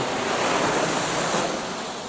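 Ocean surf breaking on a beach at Long Beach Island, New Jersey, a loud, steady broadband wash of waves with wind buffeting the microphone, no speech.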